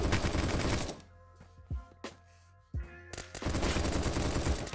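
Rapid gunfire from the survival shooter Apocalypse Rising 2 with Soviet weapons. Dense loud bursts open and close the stretch, with a few sharp single shots echoing in the quieter gap between them.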